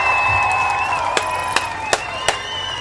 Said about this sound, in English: We want to give all of the Ujima babies a round of applause.